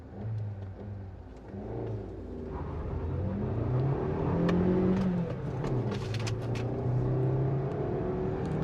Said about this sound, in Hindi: अब इस गाड़ी को मैं पुल करूँगा